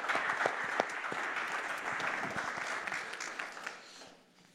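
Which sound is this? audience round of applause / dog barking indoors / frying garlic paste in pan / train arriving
audience round of applause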